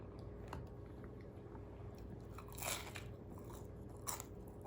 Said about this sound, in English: Perfect crunch.